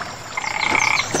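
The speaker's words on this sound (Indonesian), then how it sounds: "Ada katak." A cartoon frog in Upin & Ipin gives a quick rattling croak trill, close and clear over faint outdoor background, lasting under a second.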